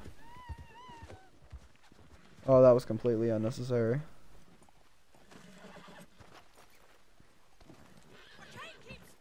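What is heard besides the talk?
horse whinnying and hooves in Red Dead Redemption 2 video game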